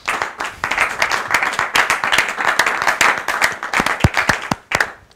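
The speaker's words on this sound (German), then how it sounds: "Applaus ist angebracht und erlaubt." Lively audience clapping at an evening event, close and loud, with distinct individual claps forming an uneven, rapid rhythm that continues throughout.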